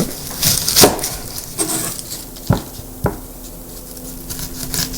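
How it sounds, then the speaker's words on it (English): Onion being cut with a not very sharp kitchen knife, heard as a few sharp, close knocks of the blade on a board with softer crunching between them. "So now we'll cut in the onion."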